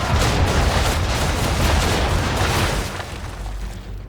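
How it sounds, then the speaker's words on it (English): Ship cannons fire a broadside in Assassin's Creed III, a dense, loud barrage of booming blasts rolling together with heavy low rumble, easing slightly toward the end. "Bring around broadside, and when all guns are on target, call fire. Round shot for a start! And fire!"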